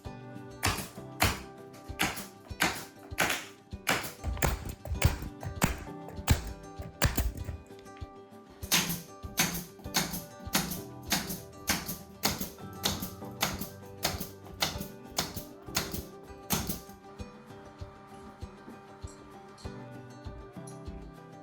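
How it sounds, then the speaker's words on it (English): A battered nail gun with a missing part, its lid held shut with masking tape, drives nails into new flooring in a termite-damaged tatami room. Sharp, loud impacts come in quick irregular bursts and then in a steadier rhythmic run. "Please take a look at this nail gun. It's missing a part, so the lid won't close, and now it's held together with masking tape."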